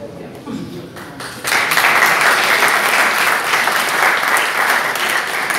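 Applause from the audience at a "Ma thèse en 180 secondes" thesis-presentation contest swells suddenly into loud, sustained clapping after a brief quieter start.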